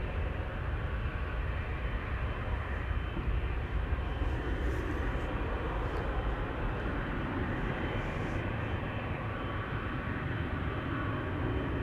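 A Singapore Airlines Airbus A350-900 taxis at Amsterdam Schiphol, heard as a steady, continuous broadband roar of jet engines that holds level throughout with no speech over it.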